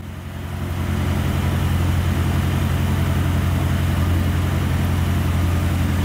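An 80s hot hatch, a barn find with a Porsche system, runs steadily at about 2,500 rpm, a constant close engine drone that rises in the first second and then holds without talk.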